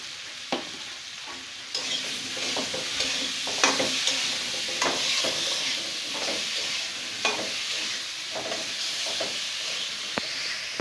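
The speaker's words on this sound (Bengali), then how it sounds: "তো চিংড়ি মাছ তো ভাজছি" Shrimp frying in a pan, a steady close sizzle and hiss punctuated by repeated scraping and knocking of a utensil stirring, with no talking.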